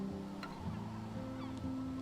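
Honking bird calls over a soft beach ambience of surf in the video game Life Is Strange, a few short cries rising above a low steady background hum, fairly faint and distant.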